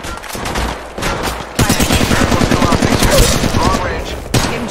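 Rapid bursts of automatic gunfire in a first-person shooter game, loud and close, with one brief pause before a sustained stream of shots and a short final burst.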